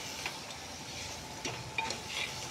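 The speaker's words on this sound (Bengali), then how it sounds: "এবার একটু সময় নাড়াচাড়া করে মশলাটাকে আরেকটু ভালোভাবে কষিয়ে নিচ্ছি" A spice masala with Kashmiri red chilli powder fries in a pan with a soft sizzle while a spoon stirs it, giving a few scraping clinks near the start, middle and end.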